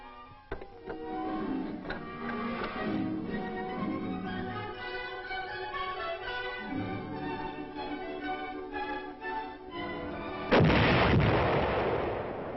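A Korean army artillery battery fires during a Korean War-era field operation with American advisors, heard on an old film track as muffled booms and rumbling under a continuous mechanical whir, ending in a louder, harsher blast.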